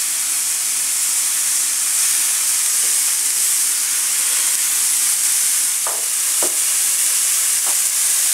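Beef slider patties sizzle loudly in a hot pan, a dense steady hiss filling the whole stretch, with a few brief thuds and scrapes as the patties are pressed flat toward the end.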